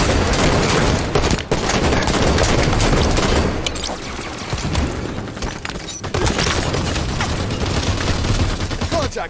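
Dense gunfire in the Halo 5 video game during a ranked match, bursts of rapid shots and booming impacts running almost continuously at high volume, with brief gaps, while a voice speaks now and then over the firefight.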